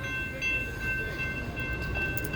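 A BNSF autorack freight train rolls past nearby at a level crossing, a steady low rumble of rail cars with a constant high signal tone over it.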